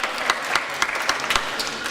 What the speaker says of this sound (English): I didn't hear a loud applause